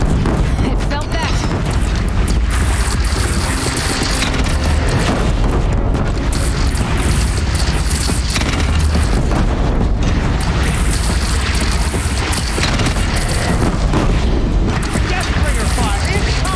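Deathbringer machine in Horizon Zero Dawn firing heavy guns amid dense, continuous booms and explosions, loud and sustained throughout with a constant roar of game combat.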